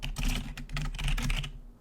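Rapid clicking of a computer keyboard while coding, close and fairly loud, a busy run of keystrokes that stops just before the end, with no voice.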